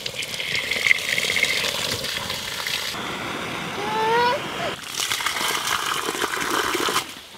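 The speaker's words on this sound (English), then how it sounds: "Look, you can hear this gulping water." Water gulping and gushing through a leaking hose line, a steady close wash with a brief burst of bubbly, rising gurgles in the middle before the rushing flow resumes.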